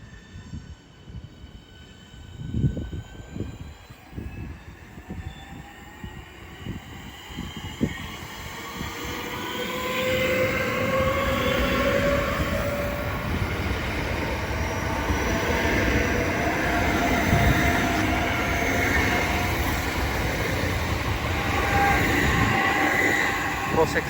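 A class 465 electric train at Orpington station rumbles and clatters past, its motors rising into a loud, sustained roar with squealing wheels. Muffled voices can be heard faintly early on.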